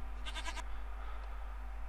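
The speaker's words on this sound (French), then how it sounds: "J'ai pas envie que les moutons nous gueulent dans les oreilles" A Minecraft sheep bleats once in a short, wavering burst over a steady low hum, heard alone at moderate volume with no talk.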